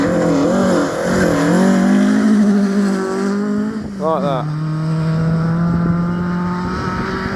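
A rally car at the Riponian Stages motorsport event at Gale Rigg revs hard and changes gear, its loud engine note rising and falling as it passes close by, with a brief spoken remark mixed in.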